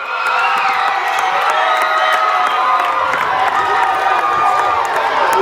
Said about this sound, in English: a bigger round of applause for second place